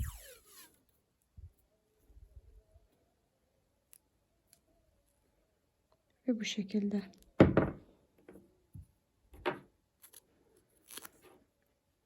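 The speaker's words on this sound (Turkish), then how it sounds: "Yine iki parça daha kesiyorum." A pair of crisp scissor snips cut through material close by while making beaded needle lace, after a short spoken phrase and amid quiet handling noises.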